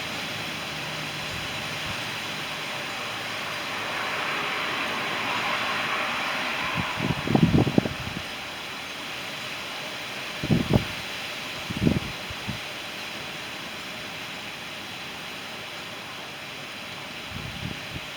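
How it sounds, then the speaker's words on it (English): Strong wind during a storm with straight-line wind warnings on Memorial Day 2020, a steady broad rushing roar outdoors, with a few dull thumps and gusts breaking through. "look how much the wind has picked up"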